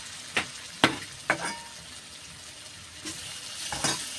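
Fried eggs and biryani masala sizzling in a pan for egg biryani: a steady, moderate sizzle with a few sharp scrapes or clinks from stirring spread across the few seconds.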